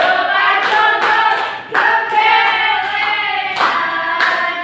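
Children in a primary classroom clap their hands along with a local folk song they sing together, the claps landing in a few sharp bursts beneath the steady, loud group singing.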